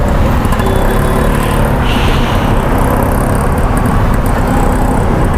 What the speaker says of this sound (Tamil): பாலம் ஃபுல்லாக டிராஃபிக்காக தான் இருக்குதோ.